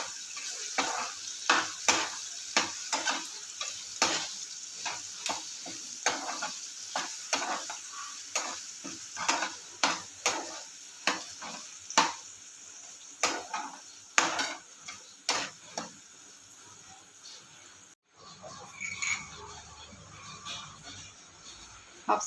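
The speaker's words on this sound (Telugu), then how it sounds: "కొంచెం బాగా కలపాలి." Ginger garlic paste stirred in a pan with the stove switched off, for a raw mango pickle: a steady run of sharp, close spoon scrapes and taps over a soft sizzle, quieting near the end.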